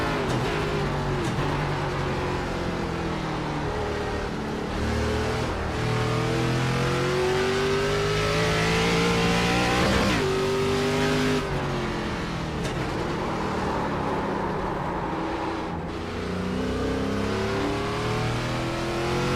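A car engine in a racing video game revs hard and continuously, its pitch climbing and dropping through gear changes, loud and steady throughout with no pauses.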